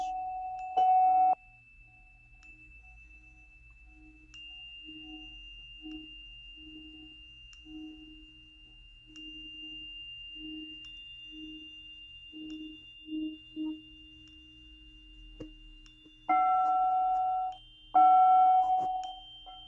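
A metal singing bowl, an upturned bell, is struck on the rim, giving clear ringing tones that sustain and fade; a few soft taps sit in between, and the strikes at the start and near the end are the loudest.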